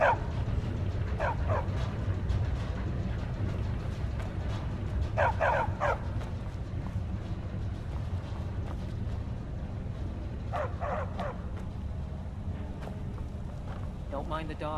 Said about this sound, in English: Don't mind the dogs. They get anxious when they haven't had dinner.